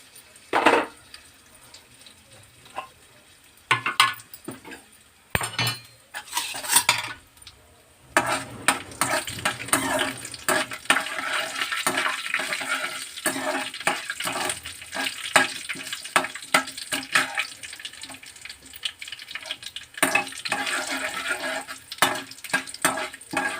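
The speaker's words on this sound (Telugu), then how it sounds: "ఆయిల్ హీట్ ఎక్కింది పోపు దినుసులు వేసుకున్నాము" Tempering spices crackle and sizzle in heated oil in a home kitchen pan while kandi podi is being made, starting with a few sharp sputters and then building into a continuous, close frying hiss with stirring.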